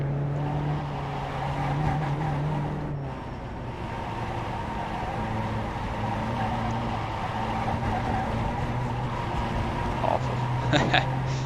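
Volkswagen Jetta race car in the iRacing sim at Rudskogen, its engine droning steadily throughout with shifting pitch and a brief burst of tire noise near the end, while a driver talks over it.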